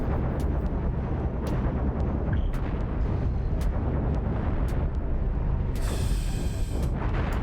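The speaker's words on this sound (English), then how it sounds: "The next nuke should do a first strike" Nuclear missile blasts striking enemy ships in the space combat game Cosmoteer, a continuous roar of loud rumbling booms and crackling impacts layered over one another with no pauses.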